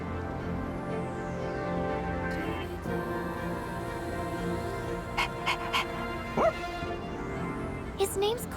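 A small dog whimpers and whines in short high cries near a shrine's steps, with louder yips near the end, over steady outdoor background noise while people talk.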